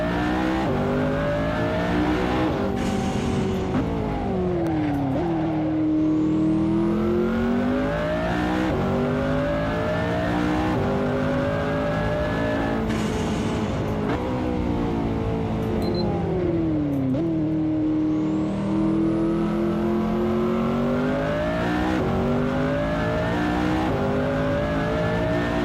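A McLaren race car in the Assetto Corsa racing game revs hard and pulls through the gears, its engine note climbing and dropping with each shift, loud and continuous, with brief tire squeal.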